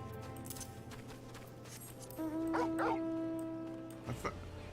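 A Fenrir wolf mount in Final Fantasy XIV gives a short whimpering, yipping call mid-clip, then a brief sharp bark near the end over steady game music and ambience.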